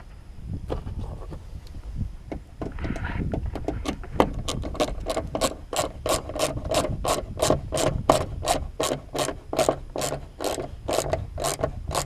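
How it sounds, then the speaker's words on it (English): Nylock nuts and washers being threaded and snugged on bolts during a RotoPax window mount install, producing a close, steady, speeding ratchet clicking that runs on without pause. "We're going to take washer, start threading on a nut."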